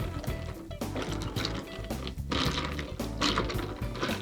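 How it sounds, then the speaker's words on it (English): A virgin mojito with ice and club soda is stirred gently, giving continuous liquid swirling, fizz and ice clinking at close range, with no voices. "And give it a gentle stir."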